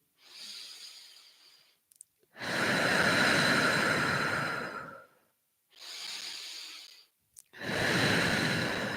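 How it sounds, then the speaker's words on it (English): Slow deep breaths during a guided meditation: two long rounds, each a soft hissing inhale followed by a louder, fuller exhale, close to the microphone with no talk. "we're just going to take a couple of deep breaths"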